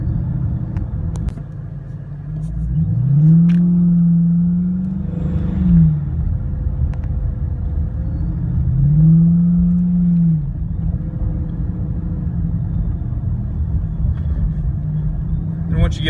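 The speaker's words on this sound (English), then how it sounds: "I was probably a little harder on the throttle there, but you can see how the RPMs just fly up there super quick." Dodge Charger R/T with an installed mod revs and accelerates in two distinct rising pulls a few seconds apart over a steady low idle rumble, heard close up.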